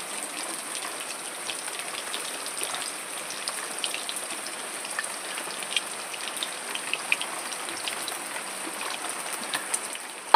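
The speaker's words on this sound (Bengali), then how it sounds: "দেখুন বাইরে কিরকম বৃষ্টি পড়ছে" Continuous rainfall outside makes a gentle, steady patter and hiss, with occasional slightly louder drops and no talking.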